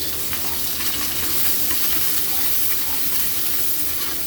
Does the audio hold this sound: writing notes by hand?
no